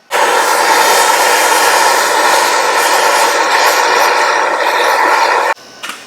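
Torch flame roaring steadily against a stuck axle on an Audi S6 V10 Avant conversion build, a loud continuous broadband hiss that cuts off abruptly near the end, leaving a few faint clicks.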